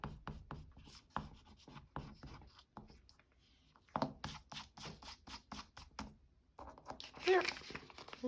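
Scissors cutting paper for a paper pad craft, a series of short crisp snips in an irregular rhythm, close and fairly quiet, with paper rustling and handling between cuts and a person speaking now and then.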